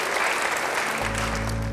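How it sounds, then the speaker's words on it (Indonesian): A church congregation breaks into brief applause, a soft wash of many hands clapping at a distance, with a low electrical hum coming in partway through. "Beri tepuk tangan yang baik bagi Dia."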